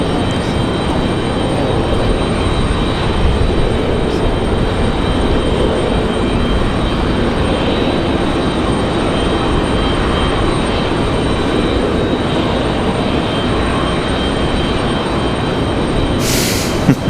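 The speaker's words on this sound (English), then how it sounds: "I believe our 777 from Paris is sporting the GE90s today." A Boeing 777 from Paris with GE90 engines gives a steady, dense, loud roar at Raleigh Durham airport, unchanging throughout with only a brief high click near the end.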